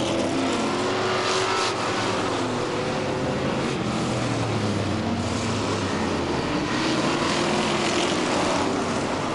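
Stock race cars, including an old 1971 Camaro, roar around an oval track in a continuous loud engine wash, several cars passing together with rising and falling pitch.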